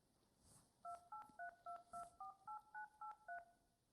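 A spare mobile phone is dialed on stage during a school production of High School Musical: about eleven quick, evenly spaced keypad beeps, fairly quiet, in a steady run with no talking.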